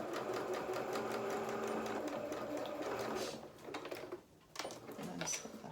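Sewing machine stitching over the edge of a small felt toy boot, a close rapid mechanical whirr that runs steadily, then breaks into short stop-start bursts.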